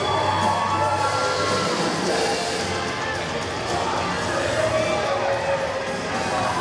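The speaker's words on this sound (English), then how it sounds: "As this crowd getting whipped into a frenzy." A packed wrestling crowd at a Vanguard Championship Wrestling event roars and cheers in a frenzy, with loud, continuous shouting and whooping that barely dips throughout.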